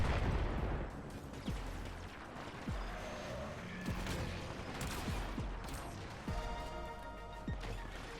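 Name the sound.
pistol firing in the video game Warframe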